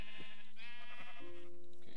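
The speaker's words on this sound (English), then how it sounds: "we're gonna kill these sheep for some wool" Sheep in the video game Minecraft bleat several times in quick succession, loud and close, each call a wavering nasal baa with no other sound around it.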